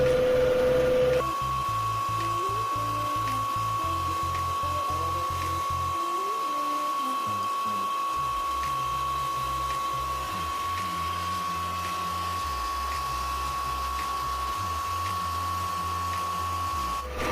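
A leaking water supply motor runs continuously with a loud, steady electric whine and droning hum, its pitch constant and close.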